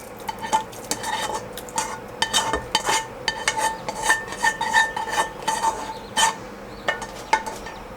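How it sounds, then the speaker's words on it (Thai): Stir-fried minced pork mixture tipped into a hot pot of old-style rice porridge, with repeated metallic clanks and scrapes of a utensil against the pot in an uneven rhythm, close and clear. "เครื่องผัดที่เราผัดเอาไว้ ใส่ลงไปในหม้อเลยนะครับ"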